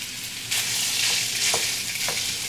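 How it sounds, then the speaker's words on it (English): Breakfast sausage frying in a hot, fat-coated pan gives off a steady, close hiss of sizzling, with a few brief crackles and pops breaking through the bright spatter. "You hear the nice sizzle."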